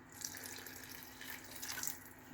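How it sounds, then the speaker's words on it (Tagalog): Broth poured into a cooking pot of sponge gourd, misua and ground pork soup, a steady close watery pouring and splashing that runs without pause. "So, dagdagan ko na lang ang ating sabaw at kuluin natin."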